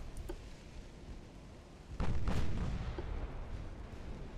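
Battleship guns fire in the naval strategy game Ultimate Admiral Dreadnoughts: one heavy, booming report with a rumbling tail stands out from a quieter background of faint distant thuds.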